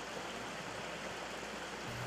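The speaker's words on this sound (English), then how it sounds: "Instead, this is a quiet, reflective section of the stream." A gently flowing stream in a quiet, level section of a gorge, giving a soft, even wash of water with no breaks.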